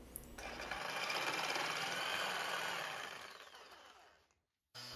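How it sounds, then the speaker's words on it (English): Track saw and jigsaw cutting a notch into a fixed kitchen pantry shelf, one continuous high whining cut for about four seconds that fades out, then a brief restart. "the track saw and jigsaw make quick work of this"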